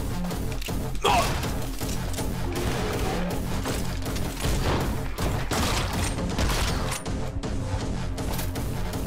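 Rapid gunfire and impacts from the video game Anger Foot, dense and loud throughout, with repeated crashes and bursts layered over a thumping game soundtrack.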